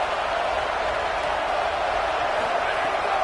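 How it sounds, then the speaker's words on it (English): A stadium crowd in a college football video game playoff between BYU and Ole Miss roars as a dense, steady wall of cheering and murmur throughout, with no breaks or pauses. "this crowd is ready."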